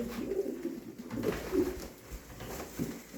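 Pigeons coo in soft, low, repeated calls close by, several throaty phrases in a few seconds with no talking over them.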